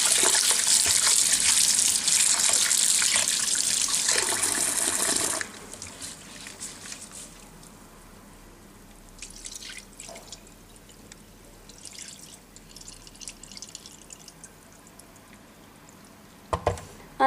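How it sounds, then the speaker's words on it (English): Water gushes loudly from a tap into a bowl of rice being washed for stuffed vine leaves, then stops, leaving quieter drips, light swishing and small clinks. "Then I wash the rice."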